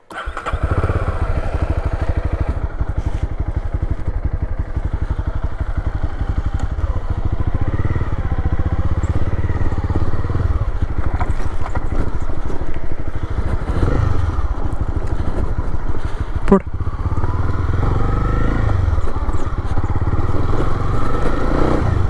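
A Honda motorcycle engine runs steadily while the bike is ridden on the road, a loud, continuous throbbing drone with a brief knock midway and no talk over it.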